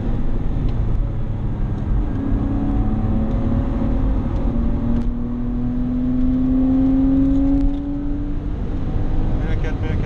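A Porsche Boxster 986 2.5 engine climbing through the revs toward the limiter on a Nürburgring lap, a steady loud in-cabin drone with rising pitch, with speech over it.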